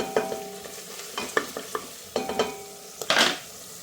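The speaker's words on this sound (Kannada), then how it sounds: "ಈರುಳ್ಳಿ ಕೆಂಪು ಫ್ರೈ ಆಗಬೇಕು" Onions frying in a pan for tomato bath, with sharp sizzling bursts as a spatula stirs and scrapes, several distinct scraping strokes at irregular intervals, close and moderately quiet with no talk.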